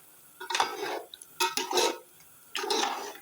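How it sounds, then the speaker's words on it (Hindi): Spiced yogurt is stirred into biryani masala in a metal pot, giving three separate bursts of a spoon scraping and clinking against the pot, close and fairly soft, with quiet pauses in between. "दही ऐड करके मिक्स करेंगे"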